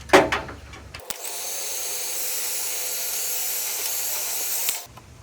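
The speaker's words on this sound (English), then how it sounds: "Now we use the heat gun and shrink those down." A heat gun shrinks heat shrink tubing over spliced automotive wires, with a steady blowing whoosh of hot air that starts with a click, holds for about four seconds and then cuts off. A few handling clicks come before it.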